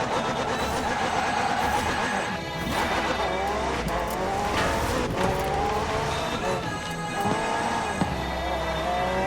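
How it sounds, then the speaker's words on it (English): McLaren P1 GTR with a twin-turbo V8 and electric motor assist accelerates hard in Forza Horizon 4, its engine note rising loud and dense through gear changes, with tire squeal and game music layered over it. "The car's blistering performance is delivered by a twin-turbo V8, supplemented by a McLaren ECU electric motor and instant power assist system."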